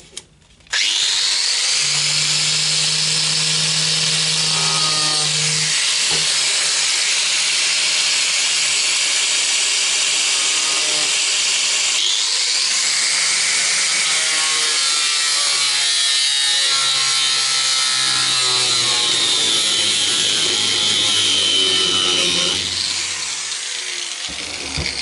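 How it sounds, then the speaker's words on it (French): An angle grinder cuts into the steel body of a Citroën Traction 11B, a loud, sustained high-pitched whine that holds steady for about twenty seconds, dips briefly midway, then winds down at the end. "Maintenant, à l'aide d'une disqueuse, je vais ouvrir ce rectangle-là que j'ai tracé."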